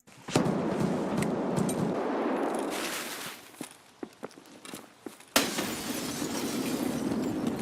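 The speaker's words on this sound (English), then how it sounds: "throw a grenade in to see if I can do any preliminary damage" A grenade goes off inside a building in Escape from Tarkov, a heavy close blast followed by debris, clattering and scattered sharp impacts, then a second loud burst and sustained rumble.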